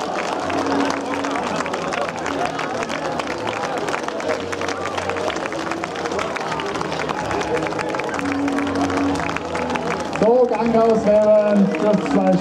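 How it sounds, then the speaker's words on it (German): Spectators at the finish of the 9th Murfeld Advent run in Murfeld clap steadily and densely throughout, with voices talking over it and a brief change in the background near the end. "Kräftigen, tobenden Applaus für diese Leistung."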